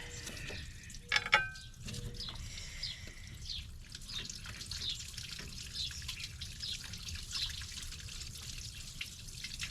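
Coolant water trickles and drips from a Suzuki Grand Vitara thermostat housing during a repair, with a brief sharper splash early on, then a faint steady dribble.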